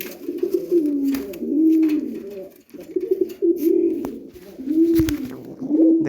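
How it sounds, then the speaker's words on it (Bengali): A pet satin pigeon coos close by in repeated low rolling phrases with brief pauses between them, loud and clear throughout. "তবে আমার অনেক শখের একটা কবুতর।"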